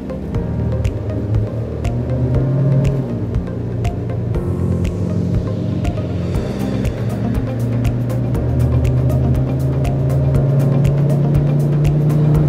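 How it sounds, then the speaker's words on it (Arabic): A 2020 Changan CS35 with a 1600cc engine accelerates hard in a torque test, heard from inside the cabin. A loud, steady engine drone rises in pitch over about twelve seconds, with a faint rhythmic ticking running beneath it. "خلينا الآن نجرب عزم السيارة"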